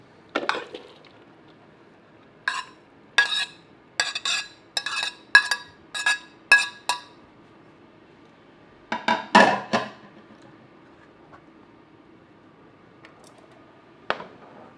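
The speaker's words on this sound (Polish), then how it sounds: "pietruszka z miętą i to wszystko razem wymieszamy Wrzucamy do miseczki." A spoon clinks and scrapes against a bowl while a quinoa tabbouleh with parsley, mint, cucumber, blanched tomatoes and onion is mixed. There are about a dozen quick close taps in a row, then a short scraping burst, in a quiet kitchen.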